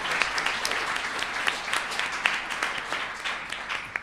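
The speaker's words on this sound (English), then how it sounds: "Let's give Jane a round of applause for that" An audience applauds a children's book illustrator after her talk, a steady, moderately loud patter of many hands clapping together, continuous from start to finish.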